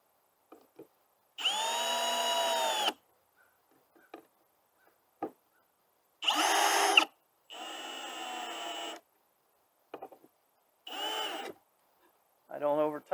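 A power drill driving screws into pre-drilled holes while building a wooden bluebird house, whirring in several separate bursts of a second or so, close and loud, with short quiet gaps between runs.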